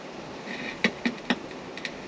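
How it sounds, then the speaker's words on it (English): The radio in a Jeep XJ clicks as it switches on. About five light, quick clicks come in an uneven series over a constant low hiss, and no one speaks. "It's the radio clicking on."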